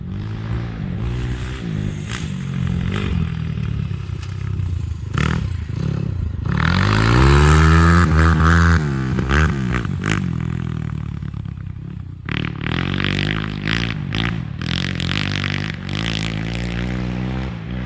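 A new 2023 SSR SR250S 250 motorcycle is ridden nearby, its engine droning steadily, then revving up loudly around the middle before settling back and picking up again, with some rattling and clatter.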